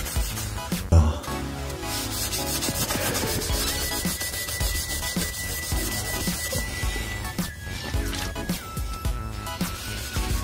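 A stainless steel exhaust silencer on a Porsche Cayenne S V8 is rubbed hard with paper towel, giving a continuous close rasping, scrubbing friction with a brief thump near the start, over a steady background.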